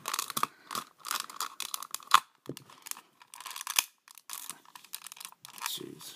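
A Dell computer mouse casing is pried open by hand: scattered plastic clicks, creaks and crackling snaps come in irregular bursts, fairly close and quiet, with brief pauses between efforts.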